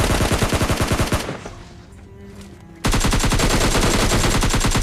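Automatic gunfire sprays in PUBG Lite, with rapid rhythmic bursts that break off into a quieter pause before another loud, continuous stream of shots resumes, close and dominant.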